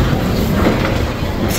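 Passengers ride inside a train running on rails, a steady, loud, broadband rumble with faint rattling filling the whole short stretch.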